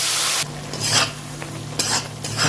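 Potatoes and ground spices (chili, cumin, turmeric, coriander) with a little water are stir-fried in a pan for khichuri, giving a steady sizzle with scraping strokes that swell and fade. A low hum runs underneath and no one speaks.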